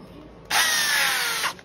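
An electric drill starts abruptly and runs with a high, steady whine for about a second before spinning down, close and loud, while its chuck is tightened.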